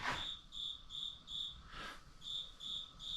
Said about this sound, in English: The cricket in the back of the shop.